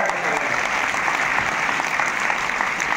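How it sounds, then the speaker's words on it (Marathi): A hall audience at a state-level award ceremony for a junior IAS competition gives students, parents and teachers a burst of dense, even clapping, loud and continuous throughout the short stretch. "एकदा टाळ्या होत्या आपल्यासाठी."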